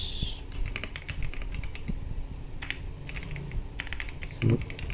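Computer keyboard typing, a run of light clicking keystrokes at close range with a couple of brief pauses, no talking, while entering values for a Python time calculator program.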